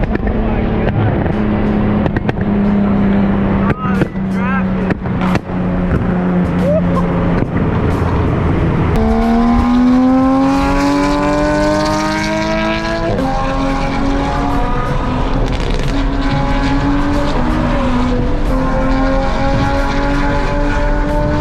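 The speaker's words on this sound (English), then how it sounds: "God, that Porsche is so loud." A loud Porsche sports car engine roars and revs up through the gears, pitch climbing and shifting, with faint voices underneath.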